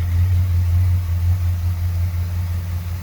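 A 1966 Pontiac GTO with a 389 Tri-Power V8 and factory exhaust idles close by, a steady deep rumble with a slight lope throughout.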